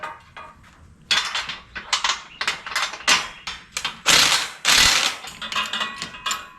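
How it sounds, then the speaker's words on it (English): A 12-ton Harbor Freight shop press jack is pumped to push out a bearing, giving loud, close metallic clacks and ratcheting clanks in uneven bursts, with no voices. "This is a 12-ton shop press from Harbor Freight."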